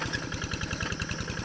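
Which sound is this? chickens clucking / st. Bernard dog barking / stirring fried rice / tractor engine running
tractor engine running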